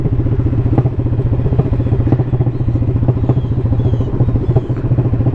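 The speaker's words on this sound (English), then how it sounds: "No need to wear your clutch out or your brakes on this road. Let the engine braking work." A motorcycle engine braking on a rural backroad gives a loud, close, rapid thumping putter with clattery popping, steady in rhythm throughout, with no voices over it.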